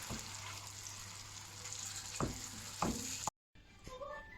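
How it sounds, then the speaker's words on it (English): Steady sizzling of steak frying in a hot pan, with a few clattering stirs near the end before a brief cut. "So I'm just frying up a steak to go along with it."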